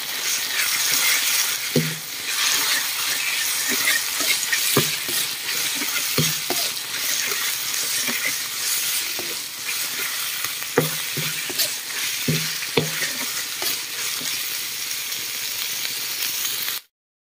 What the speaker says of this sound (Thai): เครื่องหอมใส่เขียดเข้าไปผัดเลยครับ